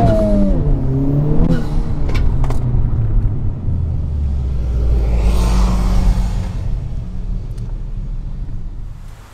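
Honda Civic Type R fitted with a PRL Motorsports intake and inlet tube, its engine loud and close, the pitch sliding down from a high rev into a sustained, throaty rumble.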